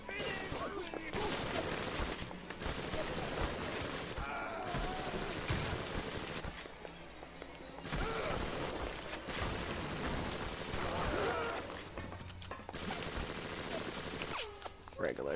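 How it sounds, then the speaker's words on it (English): BioShock shotgun blasts boom repeatedly in fast bursts over a dense, loud game mix of clanking mechanisms and chaos, with a voice talking in places. "Regular shotgun shells now."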